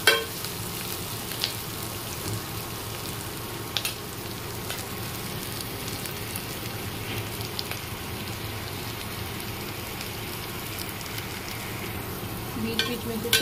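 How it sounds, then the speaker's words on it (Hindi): Onions frying in a pan for matar chaat, a soft continuous sizzle with occasional scraping stirs and clinks, fairly quiet and steady with no talk. "अनियन को ब्राउन होने तक फ्राई करना है।"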